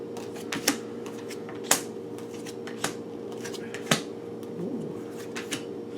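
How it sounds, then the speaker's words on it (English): Oracle cards being shuffled by hand, a run of crisp riffles and flicks with several sharper slaps, close and distinct over a low steady hum. "Ooh, a bunch of cards at once."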